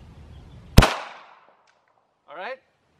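A single sharp gunshot fired outdoors in an open field, loud and close with a quick decaying tail, followed after a silent pause by a brief voiced call.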